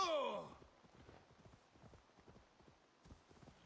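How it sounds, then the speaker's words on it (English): Faint, rhythmic horse hoof clip-clops from the video game Assassin's Creed Valhalla plod along steadily at a distance, after a brief breathy sound at the start. "There's the horse."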